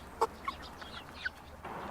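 Chickens cluck in short, separate calls, four or five soft bursts close by over a quiet farmyard background.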